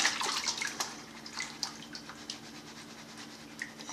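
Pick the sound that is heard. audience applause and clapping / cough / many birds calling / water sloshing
water sloshing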